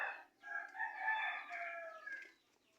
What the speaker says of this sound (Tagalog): Ito dalawang manok.